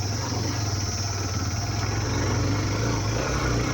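A Hero Xtreme 125cc motorcycle engine running on a rough off-road mountain trail in Nepal, a loud steady low drone with a slight rise in pitch toward the end.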